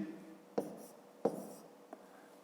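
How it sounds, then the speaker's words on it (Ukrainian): A pen writing on paper in three brief scratchy strokes, two firm and close, the last fainter, separated by quiet pauses. "Пишемо в дужках чого? Метрів квадратних."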